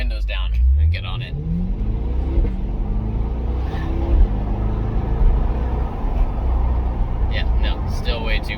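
2021 C8 Corvette accelerating with exhaust valves fully open in Z mode and windows down, a deep engine rumble rising in pitch as it pulls, heard from inside the cabin, with a voice talking briefly over it.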